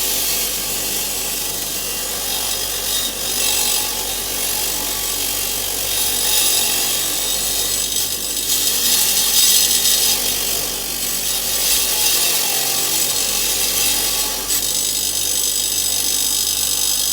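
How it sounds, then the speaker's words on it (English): Electric wire brush scrubbing limescale off a pipe and tap, a loud, continuous abrasive whirring rasp with slight changes in pressure throughout. "I'm just going to give the tap a good clean round as well while I've got the electric wire brush going."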